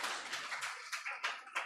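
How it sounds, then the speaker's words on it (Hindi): Scattered hand clapping from an audience at a Jain monk's religious discourse, a series of uneven bursts of claps rising and fading over a couple of seconds, fairly close and with no one speaking. "ताली बजा रहे हो इस बात पर कि पानी नहीं पिला पाए"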